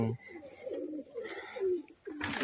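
Two hand-raised yellow-eyed pigeons, a mated pair, coo in a low, steady rolling murmur that continues with only brief breaks.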